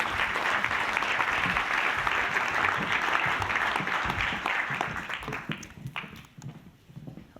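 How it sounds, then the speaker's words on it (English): A big round of conference audience applause for departing startup pitchers, a dense roar of clapping that thins out into a few scattered claps and footsteps toward the end. "so let's give them another big round of applause."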